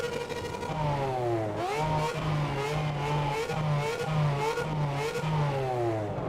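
A car engine revs hard through repeated gear changes, pitch climbing and dropping in quick cycles, loud and continuous with a synthetic game-like tone.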